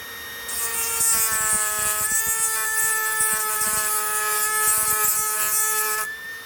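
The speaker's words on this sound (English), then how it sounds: "these diamond burrs, you can use the back of it and kind of push and pull" A Dremel with a diamond burr is pushed and pulled across a walnut shell to sand it, a steady close high-pitched rotary whine with a gritty rasping scrape running for about six seconds.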